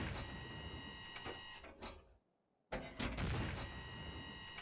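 A belt-fed autoloader tank gun in Stormworks fires in rapid mechanical bursts, a clattering, dense run of shots broken by a brief silent gap before another loud burst resumes.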